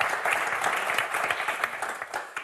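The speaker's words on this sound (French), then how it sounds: "Romane, François, on vous applaudit très très fort." A TV game show studio audience applauds the contestants in a brief, dense burst of clapping, steady and fairly close, with little speech over it.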